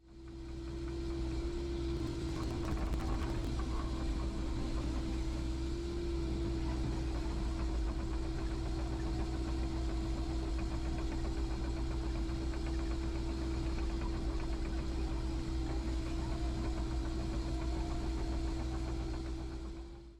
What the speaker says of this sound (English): This excavator probably isn't the most ideal tool for this type of job, but it's very effective and does the job very well.